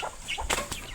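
Chickens clucking near a rural water-fetching spot, a few short irregular clucks over light background noise, with no talk.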